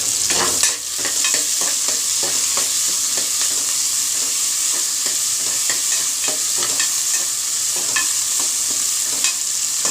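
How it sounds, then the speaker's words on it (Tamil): Potato pieces and fresh mint sautéing in a pan for a vegetable salna, a loud continuous sizzle broken by frequent scraping stirs throughout, with no one speaking. "எல்லாமே சேர்த்துக்கிட்டு நல்லா வதக்கிட்டு"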